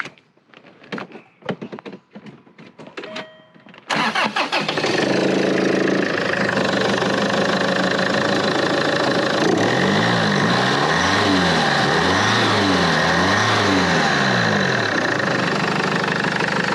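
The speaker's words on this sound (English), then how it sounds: "Now you'll hear when I turn this car on, it sounds as rough as a bag of nails." A Land Rover Freelander 2 engine cranks and starts after brief clattering, then idles loudly and roughly with a steady uneven knock, close up and continuous; its auxiliary drive belt needs changing.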